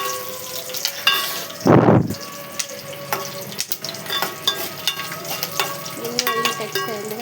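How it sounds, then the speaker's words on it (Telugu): Green chilies fry in a pan over a low flame, crackling and popping continuously, with scattered clinks of a utensil stirring and one brief louder burst of sizzle early on. "చిన్న మంట పెట్టుకొని వేయించుకోవాలి, లేకపోతే ఈ మాడపోతే టేస్ట్ ఉండదు."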